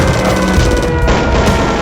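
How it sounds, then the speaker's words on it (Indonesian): Machine gun fire opening an attack on Ambarawa in a historical battle account, a loud, dense burst of rapid shots sustained through the whole short stretch with no pause. "Setelah melakukan tembakan mitraliur penanda pembuka serangan"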